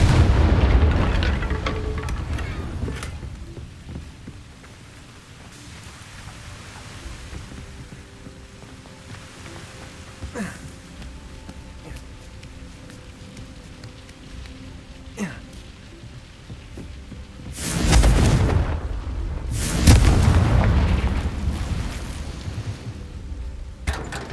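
Confringo blasting spells explode in the video game Hogwarts Legacy: a heavy boom at the opening fades into a quiet, low hum, and two sharp, loud blasts follow close together near the end.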